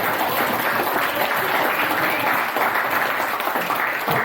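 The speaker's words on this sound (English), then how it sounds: "So round of applause for" Wedding guests applaud during evening reception speeches, a continuous, even burst of clapping filling the room throughout.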